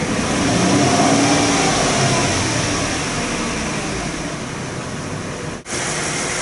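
A Lincoln LS engine roars continuously at wide open throttle, a dense, steady rushing drone that holds at high revs for several seconds.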